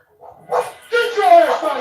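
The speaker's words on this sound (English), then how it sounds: "He's protecting his family from a pit bull." A pit bull barking in a played video, a few sharp barks and yips mixed with whimpering and overlapping voices, loud and close.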